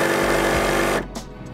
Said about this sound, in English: when it goes down and starts grinding, it'll go for like 7 seconds and it'll stop